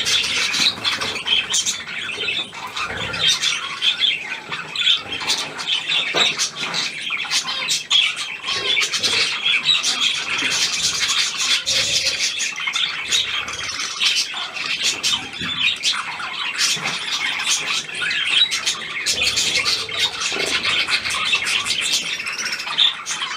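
Three unfamiliar birds squawk and chirp repeatedly at close range, a busy overlapping run of harsh calls that continues throughout without speech.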